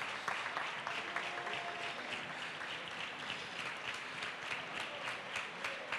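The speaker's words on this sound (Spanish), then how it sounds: "ahí están recogiendo los aplausos de este público" A theatre audience applauds a carnival comparsa at the Teatro Florida during a carnival group contest final, steady dense clapping from a large crowd continuing throughout at a moderate distance.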